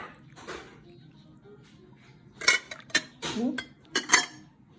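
A metal teaspoon clinks and scrapes against a jar or cup while spooning honey for a herbal infusion, several sharp clustered taps in the second half, close and fairly quiet with low background noise.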